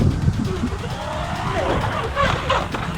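A Traxxas Hoss RC truck revs and launches in a skate park, its motor whining up and down over a scuffing, skidding rumble, with faint voices in the background.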